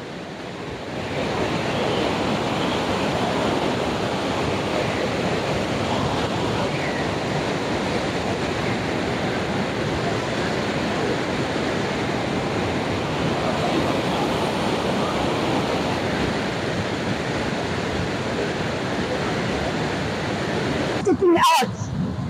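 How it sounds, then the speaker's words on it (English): A storm-flooded river that has burst its banks roars in a steady, loud broadband rush, continuous throughout with a brief knock near the end. "the river has absolutely jumped its bank and it's quite wide at the moment"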